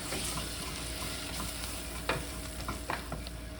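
Oil, lemon juice and white wine vinegar are stirred together, a brief scraping stir with a couple of soft clinks over a steady background hiss, no talking.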